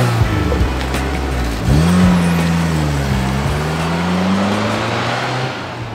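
A VW Golf 2 engine hums loudly from inside the moving car, rising as it accelerates through gears with steady road noise, no talking.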